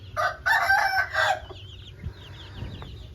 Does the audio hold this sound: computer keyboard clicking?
no